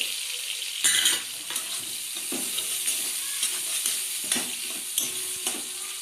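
Chopped onion with crushed garlic frying in hot oil over a raised gas flame, a constant close sizzle broken by several louder bursts, most likely from stirring or from the pieces being moved around.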